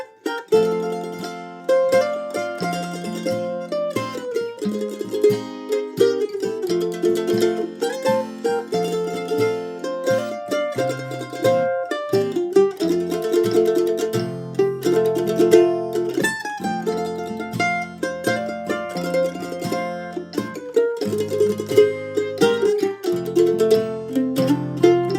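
A mandolin plays a waltz with rapid double stop tremolo, shimmering paired notes moving through a slow three-beat melody, steady and clear at close range without any talking.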